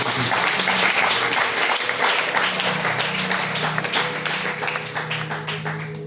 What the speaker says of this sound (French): Est-ce qu'on peut acclamer d'abord très fort?